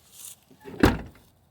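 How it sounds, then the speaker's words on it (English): A 1994 Ford F-150 pickup, left abandoned for four years, has its door swung shut with one solid, close thunk and a short rattle after it. "let me shut my door here"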